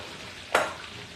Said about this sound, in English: they frying the catfish